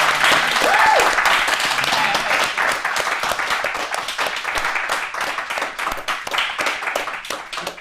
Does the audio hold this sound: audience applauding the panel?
yes